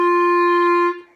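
A single sustained clarinet note with a crisp tongued attack, held steady and clear for about a second before releasing, played solo and close with no talking.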